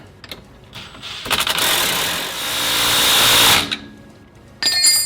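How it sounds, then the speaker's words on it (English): Impact wrench driving a nut onto the steering of a RZR side-by-side during a rack and pinion replacement, a loud sustained burst of several seconds after brief clicks, then a short hit near the end, with no talking. "And we'll impact it the rest of the way."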